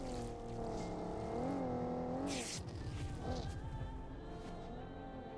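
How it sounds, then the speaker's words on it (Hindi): A car in a battle royale mobile game drives past, a loud engine tone rising and falling in pitch before fading behind rumbling game noise. "यहाँ पे आप ध्यान देना आगे से एक गाड़ी निकलती है"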